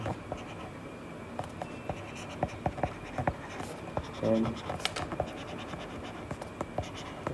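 Writing on a classroom board during a Class 12 physics lecture on moving charges and magnetism: steady scratchy strokes and taps go on throughout at a moderate level, with no voice over them.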